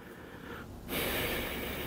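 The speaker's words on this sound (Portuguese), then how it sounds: "Tô respirando, ó." Heavy breathing inside a motorcycle helmet, close and muffled, with a loud rush of exhaled air after a brief quieter stretch.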